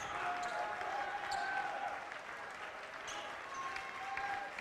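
Brookings fans applaud at a basketball game, a soft, distant patter of clapping from the crowd that continues steadily, with faint squeaks and voices in the arena.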